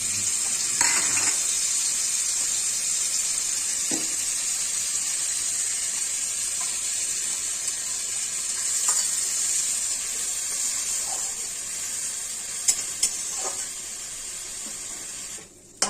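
Ground spice paste of chili, cumin, coriander, ginger and dried red chili sizzles steadily in a hot pan for muri ghonto, with a few faint stirring clinks and taps scattered through the continuous frying hiss, no talking.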